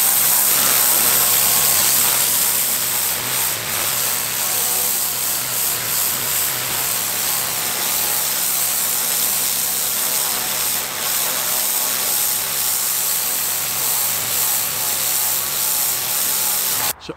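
An Ava Master P80 pressure washer with a premium patio cleaner attachment scours a patio in a loud, steady, close spray hiss over a motor drone, continuous throughout with only slight shifts in tone.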